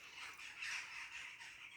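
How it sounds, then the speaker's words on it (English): Birds chirp outdoors in a steady, faint wash of high twittering with no clear individual calls and no voices. "The birds are really chirping up a storm up there."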